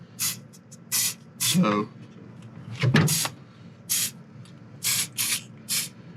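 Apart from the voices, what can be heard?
spraying Blaster dry graphite lubricant on hitch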